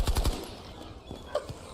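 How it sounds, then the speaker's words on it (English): Gunfire in the online game Chrono Odyssey opens with a rapid burst of close, loud shots, followed by a few scattered, quieter reports. "They're shooting each other!"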